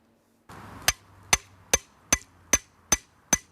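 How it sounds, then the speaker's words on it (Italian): A scythe blade being peened by hand in the countryside: seven sharp, ringing metallic hammer strikes in a steady, even rhythm, close and loud, with quiet decay between blows. "È un suono antico che ha riecheggiato per secoli sulle nostre campagne. È l'arte di battere la falce"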